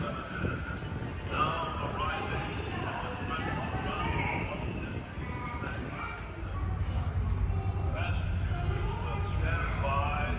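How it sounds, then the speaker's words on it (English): Disneyland Railroad steam train rolling past at the park, a continuous rumble of wheels and clattering rail noise with occasional squeals, fairly loud and steady, while people talk nearby. "I see the train."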